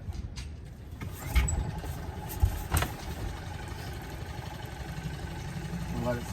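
A Catalina 22 sailboat's engine sputters and catches, with a few sharp knocks, then settles into a steady low idling rumble.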